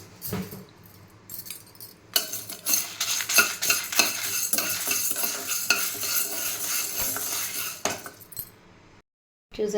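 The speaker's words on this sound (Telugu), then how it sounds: "ఎండుమిర్చి, కందిపప్పు కలిపి వేయించేసుకోవచ్చండి" Toor dal and dried red chillies frying together in a pan, a dense, loud crackle with metal spoon clinks and scraping stirs for several seconds, close up, ending abruptly in quiet.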